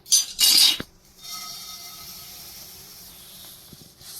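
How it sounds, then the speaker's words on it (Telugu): Puffed rice is roasted in a pan. A loud, rattling clatter is heard as it goes in, then a soft, continuous hiss and light rustling as it toasts. "ఇప్పుడు బొరుగులు వేయించుకుందాం"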